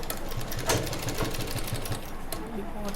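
A sewing machine stitching a ready-made nighty during alteration practice rattles at a fast, steady needle rhythm, close and loud throughout, with someone talking over it.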